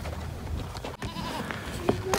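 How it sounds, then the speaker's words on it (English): Goats bleat a few times on a farm as they are let out of their pen, short calls rising near the end over a steady background hum. "We're gonna let the goats out for a minute"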